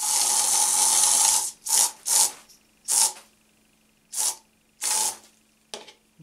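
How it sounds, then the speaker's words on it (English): Aerosol air freshener sprayed from a can in repeated hissing bursts, one long spray followed by about six shorter puffs with pauses between, close and fairly loud. "I'm just going to spray some more air freshener"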